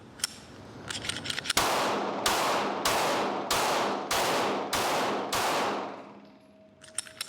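Stock Glock pistol fired six times in a steady rhythm, each loud sharp crack ringing out with a short decaying echo, close and alone without talk.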